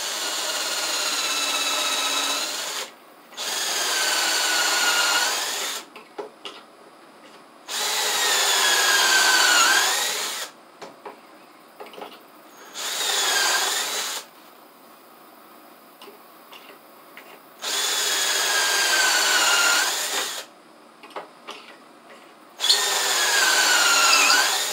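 A power drill drives pocket screws into a board for an RV bathroom sink rebuild, in repeated bursts of whining spin of two to three seconds each, separated by short pauses with small clicks and handling noises.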